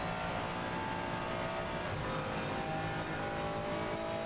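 A Ferrari 296 GT3 race car in Assetto Corsa Competizione at Mount Panorama in the rain holds a steady, loud engine drone with a high-pitched whine, heard from inside the car without any voices.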